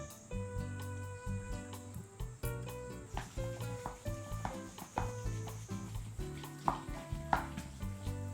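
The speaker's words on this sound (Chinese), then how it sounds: "然后一直不停的搅拌，给它搅拌上劲儿" Meat filling stirred vigorously in a bowl, a rhythmic series of close, wet slapping and scraping strokes repeating steadily, with a faint musical tone running underneath.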